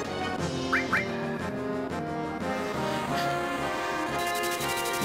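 A chicken-like chocobo summon attack in Final Fantasy VII sounds off with loud duck-like squawks and quacks over dense game music, a few sharp calls standing out near the start.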